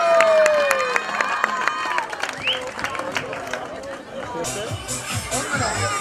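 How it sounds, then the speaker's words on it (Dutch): An audience claps and cheers at a race in Doesburg, with scattered crowd applause and chatter mixed with an announcer's voice, and whistles heard near the start. "En een applaus voor de 1-1."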